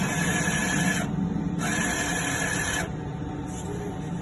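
A DTF printer running a nozzle test, its print head carriage whirring in loud, close passes with short pauses between sweeps and a steady mechanical hum beneath.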